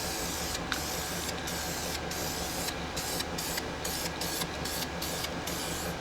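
Spray paint going onto rear unibody frame stiffeners of a Jeep Cherokee XJ in light coats, a steady close hiss broken by a series of short bursts and gaps, with no talking.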